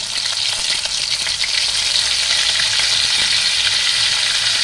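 Paste of four green chilies, a little salt and ginger, ground on a stone slab, sizzles steadily in hot oil, a loud continuous hiss and crackle close up with faint stirring and no talk.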